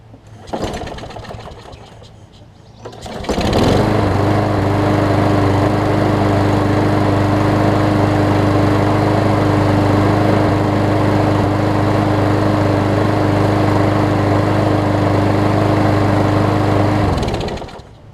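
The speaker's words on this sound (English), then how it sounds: "I'm just priming it just to see if I can get it to crank, and if I can get it to stay running" Briggs and Stratton Quantum lawn mower engine, converted from auto choke to a primer bulb, starts after a few seconds of low fumbling and then runs loud and steady close by before cutting out near the end.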